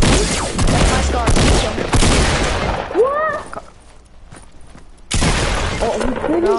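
SCAR assault rifle fire in Fortnite, loud rapid bursts of close gunfire in two volleys separated by a short lull, with voices in the background.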